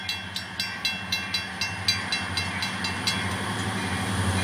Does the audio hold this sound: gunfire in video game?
no